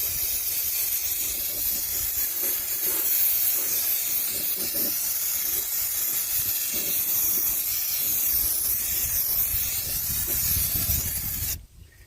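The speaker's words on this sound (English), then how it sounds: "A little bit of this Rust-Oleum high performance enamel, and we'll call it good." Rust-Oleum high performance enamel paint sprayed from an aerosol can onto a repaired, welded truck frame, giving a steady close hiss for about eleven seconds before it stops abruptly.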